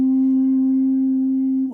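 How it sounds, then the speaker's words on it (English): A pure, unfiltered sine wave tone holds steady and loud at a single pitch for under two seconds, then cuts off abruptly, with nothing else heard. "it's the sound made by a sine wave with no filtering whatsoever"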